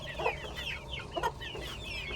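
Aseel hens clucking nearby on a farm, with a couple of sharp, distinct clucks standing out over a low steady background hum.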